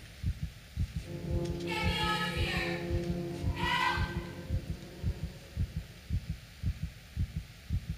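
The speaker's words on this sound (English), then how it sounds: "You can hear your heart beating, by the way." Heartbeat in the video game Dead Space Extraction, a steady throbbing thump-thump pulse running throughout, with a droning hum swelling twice over it.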